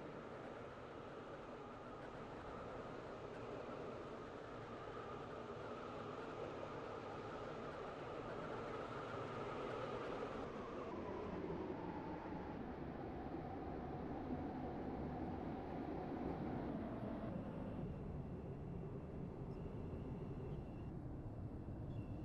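Train arriving at a station platform in SCR, the Stepford County Railway video game, a long rumbling roll of wheels and engine whose pitch drops as it slows, then fades toward a quieter idle near the end.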